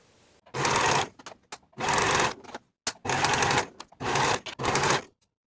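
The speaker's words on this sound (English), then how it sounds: "top stitch the seam allowances in place from one side to the other for both pieces" Sewing machine top stitching seam allowances on fabric pieces, running in five loud bursts of rapid stitching with short pauses between, close and alone.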